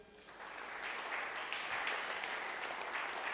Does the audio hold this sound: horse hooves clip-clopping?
no